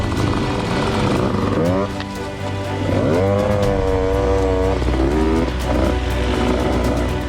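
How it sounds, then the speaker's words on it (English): An enduro motorcycle spins its rear wheel on a cross-training course, its engine revving hard and rising in pitch in loud bursts close by, while someone talks over it. "Bit of wheel spin there, Pete."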